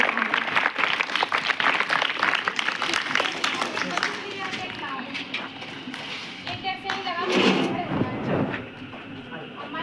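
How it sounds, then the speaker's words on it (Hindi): Students and audience at a school Teacher's Day celebration clap steadily in a loud, dense burst of applause that slowly thins, with children's voices and chatter mixed in. "जरा जोरदार तालियां।"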